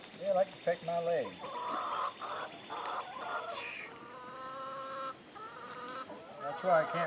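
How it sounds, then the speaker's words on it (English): Backyard hens clucking and squawking close by as they are shut in for the night, repeated rising and falling calls overlapping, with occasional human voices mixed in. "Larry's come out to put the chickens in for the night."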